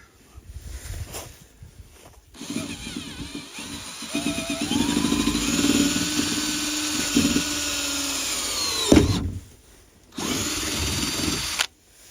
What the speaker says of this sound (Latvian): Tagad jāņem un tikai jāurbi.